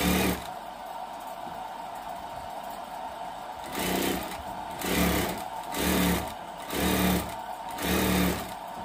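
A sewing machine stitching a full-size 30-inch umbrella runs at a low steady hum, then speeds up in five rhythmic bursts of whirring motor and needle clatter, each separated by a brief pause.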